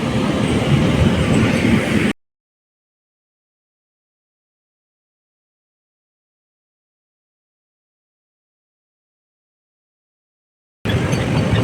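A Vande Bharat Express runs along the track with a loud, steady rumble and rattle of wheels heard from on board, cutting out to silence partway and resuming near the end.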